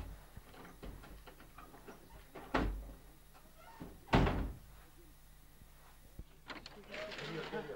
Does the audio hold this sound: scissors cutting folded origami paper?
no